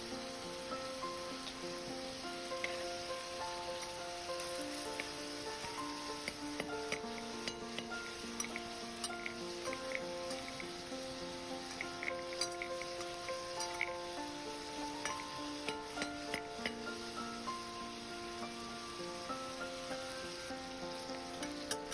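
Pork belly sears in a pot with rock candy, a soft, steady sizzle with light clinks and stirring taps of a utensil against the metal throughout, under tonal background music.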